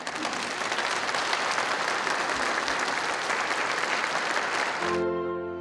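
A concert audience at a Korean-Canadian symphony orchestra performance applauds loudly and continuously after a soprano's aria set, with dense clapping filling the hall until it cuts to a sustained tone at the end.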